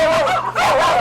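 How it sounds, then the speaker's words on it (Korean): Several dogs bark and yip fiercely from behind a fence around a house, close and loud. Two quick bursts are separated by a brief dip, with whiny, rising tones in each bark. "사납게 짖으며 몰려드는데요"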